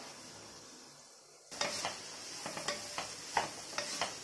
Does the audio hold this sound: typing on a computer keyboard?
no